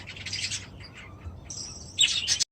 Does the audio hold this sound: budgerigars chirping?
yes